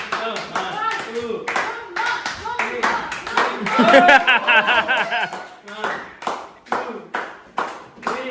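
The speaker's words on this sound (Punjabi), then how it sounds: "ਤਾਲੀ ਮਾਰੀ" Several people clap their hands in quick bursts, loud and close, with cheering voices mixed in and a pause between rounds.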